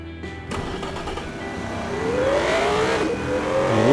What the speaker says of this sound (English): Yeah, that certainly sounds like a GT Premium car.